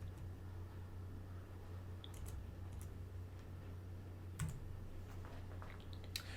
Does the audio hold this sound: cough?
no